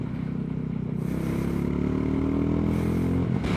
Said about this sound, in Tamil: இப்போ வண்டி வந்து ஒரு சின்ன பிக்கப் கொடுத்து பார்க்கலாம்.